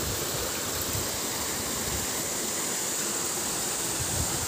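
Water flows steadily at a stream in a rural setting, a continuous broadband rushing hiss, even and close, with no voices.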